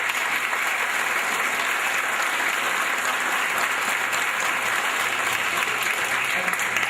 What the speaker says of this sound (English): So they also deserve a big round of applause for their support